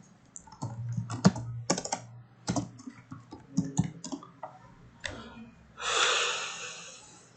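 Computer keyboard typing a search query during a Photoshop tutorial, heard as bursts of quick clicking keystrokes close up, with a louder rushing burst near the end and no talk over it.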